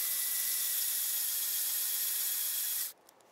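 A hand drill with a 1/16 inch bit boring a hole in styrene, with the piece held in the fingers: a steady, close, loud whirring hiss that runs unbroken for about three seconds, then stops abruptly.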